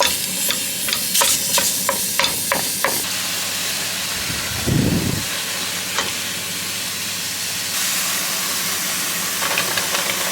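500 grams of beef browns in a hot pan with steady sizzling and hiss, while a utensil stirs and scrapes in quick clicking bursts early on and again near the end.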